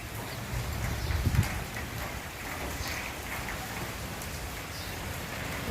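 Heavy rain driven by wind pours down in a steady, dense hiss, with a brief heavier thump early on and no voices.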